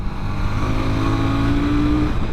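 A 2024 KTM 990 Duke motorcycle engine revs loudly and close, a steady throaty drone whose pitch climbs smoothly as the revs rise, then holds.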